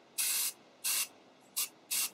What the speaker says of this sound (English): then I'm just going to start spraying just kind of in even directions